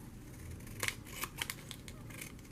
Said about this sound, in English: get the scissors.